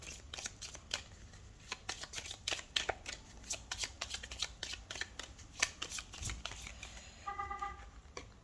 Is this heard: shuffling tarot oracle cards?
yes